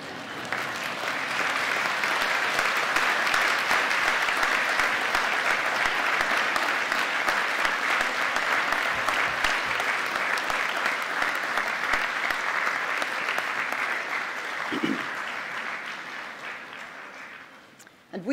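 Graduates at a university graduation ceremony in Aberystwyth applaud their families in long, dense, sustained clapping from a large crowd that fades out near the end.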